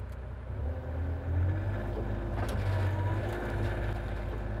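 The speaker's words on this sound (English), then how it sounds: "So I'm going to start digging now." A Bobcat excavator digs a shallow trench for a minimal-cover job, its diesel engine holding a steady, heavy rumble that swells slightly as the work starts, close by with no talking.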